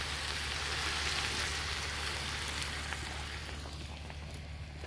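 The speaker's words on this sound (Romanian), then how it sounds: "Prăjit un pic iepurele" Pieces of rabbit fry in a cauldron, giving a steady, dense sizzle and crackle heard close up for the whole stretch, with no talking.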